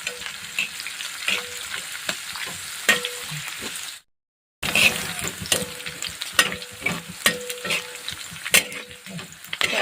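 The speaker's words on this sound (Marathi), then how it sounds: "ही लोंगी मिरची छान तळून घ्यायची" Long green chillies frying in hot oil for a fenugreek-leaf bhaji, a steady close sizzle with sharp stirring clicks, cut by a brief silent gap midway before the frying noise resumes.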